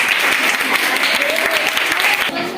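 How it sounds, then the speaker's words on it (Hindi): A school class applauding, loud, close and dense clapping that runs steadily throughout, tapering slightly at the end. "जोरदार तालियां बजा दो एक बार इनके लिए।"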